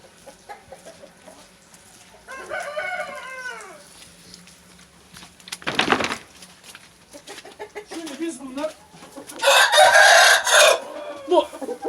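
A rooster crows nearby, then lets out a second, louder crow later on. Softer clucking and background noise fill the gaps.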